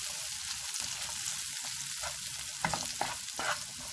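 Potatoes fry with cumin in a pan, a steady hiss of sizzling oil with a few scraping stirs near the end, faint and continuous.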